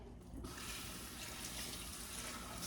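A kitchen tap runs steadily as something is rinsed under it, a close, continuous hissing splash of water that starts abruptly and carries on unbroken.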